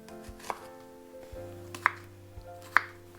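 A knife cuts small cored vegetables into pieces on a cutting board for Japanese nikujaga, three sharp, distinct knocks spaced about a second apart, close and clear, with soft background noise in between.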